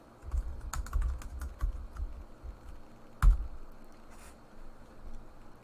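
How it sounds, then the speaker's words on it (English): Close, steady typing on a computer keyboard while working in PowerPoint, a continuous patter of key clicks with one heavier keystroke thump partway through and no voices. "when I start typing in the text box"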